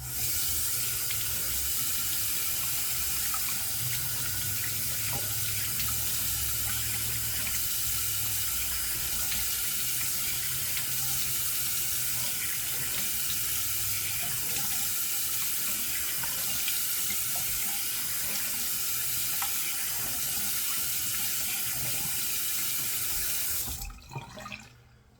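Water runs steadily from a bathroom tap into a sink for a rinse after shaving, a continuous close hiss and splash that cuts off abruptly at the end.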